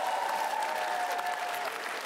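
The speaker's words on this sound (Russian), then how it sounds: "Аплодисменты наши гости." Studio audience applause for the guests, the pop group Glukoza, on an improv comedy TV show; dense, steady clapping filling about two seconds with a faint tonal line running beneath.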